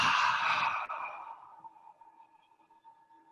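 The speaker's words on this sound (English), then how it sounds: "Let's breathe out through the mouth, the dragon's breath." A slow, steady exhalation through the mouth in a guided dragon's breath exercise, close and breathy, loudest at the start and gradually fading into quiet over a few seconds.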